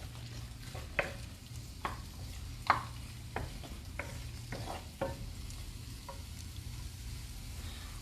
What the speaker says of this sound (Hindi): हमें सिर्फ फटाफट टॉस करना है, स्टर फ्राई करना है